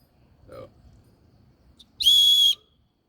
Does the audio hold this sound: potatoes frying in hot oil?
no